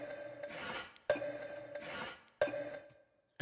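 Soloed arcade sound samples from a beat form a looping pattern of swelling noisy, raspy washes punctuated by two sharp metallic hits with brief pitched pings, fairly quiet and close, no voices.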